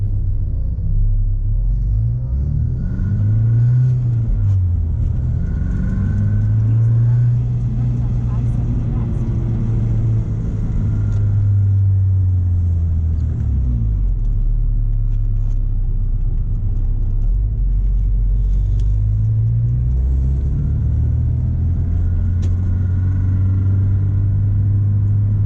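A Porsche 944 engine runs with a newly fitted exhaust, giving a loud, steady low rumble with shifting revs that rise and fall throughout.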